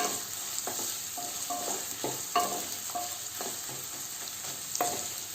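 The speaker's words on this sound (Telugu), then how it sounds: "ఆనియన్స్ ఫ్రై చేసేసుకుందాం మన ఆనియన్స్ని" Onions sizzle in hot oil in a pan, a steady frying hiss with repeated scraping strokes of a spatula stirring them, close and clear with no talk.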